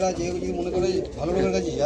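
Pigeons coo softly in a loft of Madras pigeons for sale, low repeated cooing heard close under steady conversation.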